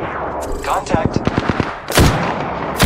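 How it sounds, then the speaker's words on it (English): Gunfire in the video game Apex Legends: a rapid run of about seven sharp, evenly spaced shots, then two louder, heavier blasts close up, with a faint voice in the background. "Opening fire on the enemy."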